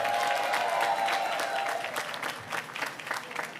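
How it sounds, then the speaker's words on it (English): An audience at an African heritage reception hosted by the New York City mayor applauds international dignitaries, sustained clapping that starts full and thins into more scattered claps toward the end, with a faint voice briefly underneath. "Let's give them a round of applause as well"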